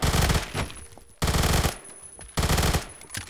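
A Vector submachine gun fires in Roblox Phantom Forces in three loud, close, rapid-fire bursts separated by short pauses.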